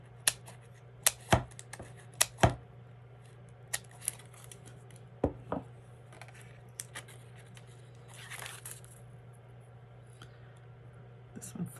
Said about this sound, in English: cut some of my pop dot paper.